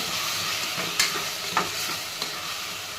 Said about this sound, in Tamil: நல்லா கலக்கிட்டே இருங்க